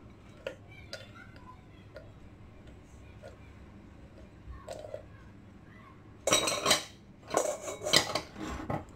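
A container of dark chocolate and 130 g of butter is handled in a home kitchen while prepared for melting in a microwave for a chocolate fondant. Faint scattered ticks are followed by louder bursts of clinking and clattering from dishes and utensils.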